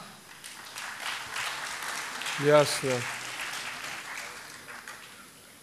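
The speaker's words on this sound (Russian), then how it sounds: "Раз народ хлопает" Audience at a mountain forum claps steadily in the background while someone briefly speaks a single word over it.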